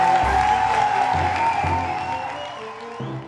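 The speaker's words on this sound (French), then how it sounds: "de bien vouloir applaudir l'auteur" An audience applauds an author at a French-language talk show, a dense wash of clapping that fades somewhat toward the end, with steady tonal sounds running beneath it.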